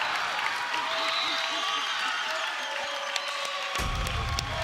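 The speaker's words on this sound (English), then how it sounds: "the crowd is absolutely roaring right now" A crowd at a high school volleyball match between Dartmouth and Barnstable cheers and applauds in a steady, loud wash of noise that fills the gym after a winning ace, with a commentator talking over it.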